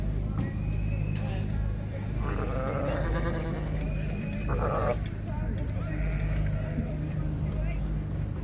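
Jacob pedigree sheep at the Mullingar agricultural show, several bleats rising over a busy showground with constant low background hum and nearby people talking.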